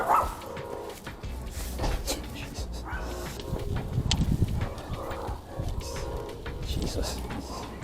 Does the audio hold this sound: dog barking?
yes